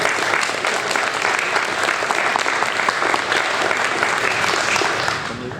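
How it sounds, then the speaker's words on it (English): Audience applause for radio station volunteers at the WRLR 98.3 FM GEO Awards, a steady, full round of clapping from a sizable crowd lasting throughout and easing slightly at the end. "Let's give a round of applause to all of our volunteer members."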